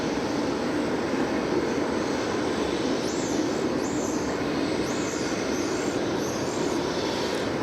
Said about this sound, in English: we got the tail end of this landing. This is 737-800 coming in from Oklahoma City, Oklahoma.